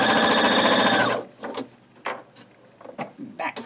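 A sewing machine runs a quick, fast-rattling seam on a Lemoyne Star quilt block, then stops, followed by a few soft clicks and handling knocks nearby.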